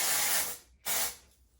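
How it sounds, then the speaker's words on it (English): Hairspray hisses from an aerosol can onto hair in two short close bursts, the first longer and the second briefer, separated by a brief pause. "just gonna spray this in my hair because I feel like it helps prevent my hair getting too greasy throughout the week"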